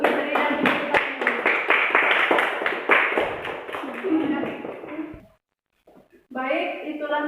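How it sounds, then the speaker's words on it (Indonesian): A micro-teaching classroom claps for a student named Fitri: several seconds of dense, steady applause from a room of pupils, fading to silence before a teacher's voice resumes. "Kasih aplaus untuk Fitri dan Ibu kita semua"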